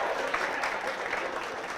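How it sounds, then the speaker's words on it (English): A lecture-hall audience of students claps together in a steady, dense round of applause, fairly close and continuous, with a faint voice underneath. "Now, after a long time you have clapped here"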